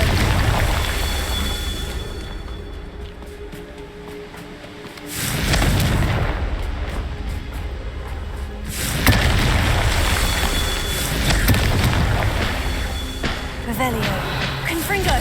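Confringo blasting curse explosions in Hogwarts Legacy, with broadband blasts sounding near 5 s and again around 9 s over continuous game rumble and effects. Spoken spell incantations come between the blasts.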